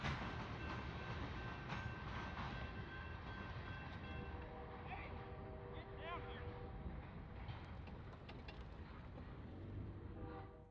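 The rear of a freight train hauled by Canadian National locomotives rushes past close by in Kentucky, a continuous loud rumble of rolling cars with rhythmic wheel clatter and brief squealing tones throughout, with a voice talking over it.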